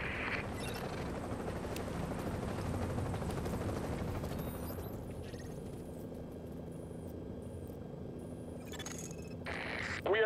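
Helicopter in The Division landing for an evac, a loud steady rotor and engine roar that dominates throughout, easing slightly toward the end before a burst of louder noise.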